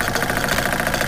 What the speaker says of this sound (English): Let's get the engine running.